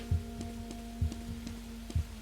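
Heartbeat sound effect in the video game The Mimic: soft, low thumps in a slow, steady double-beat rhythm, repeating about once a second over a faint hum.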